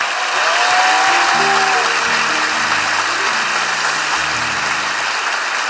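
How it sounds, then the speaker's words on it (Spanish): Audience applause at a comedy show, a steady wash of clapping under sustained musical tones, continuous and fairly loud throughout. "¡Un aplauso para ella,"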